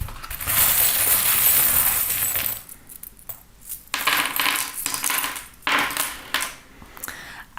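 Small metal divination charms are dropped and cast onto a surface, first in a sustained jingling pour, then in several short, bright clinking bursts.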